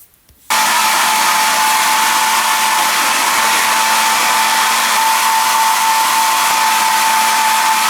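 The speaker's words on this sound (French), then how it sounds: "Je vais me sécher les cheveux." A hair dryer switches on abruptly after a moment of quiet and runs as a loud, steady whoosh with a constant whine, drying hair.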